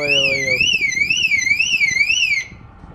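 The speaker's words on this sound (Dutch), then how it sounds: "Ik heb per ongeluk alarm laten afgaan." A car alarm, accidentally set off, wails in a rising and falling electronic siren, loud and close, repeating steadily for a couple of seconds before cutting off, with a brief voice at the very start.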